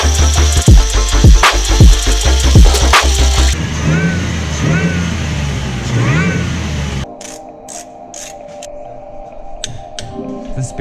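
A lifted Ford Ranger with its exhaust rigged to sound straight-piped, revving loudly up close in several sharp bursts before the scene shifts to quieter shop and tool noise.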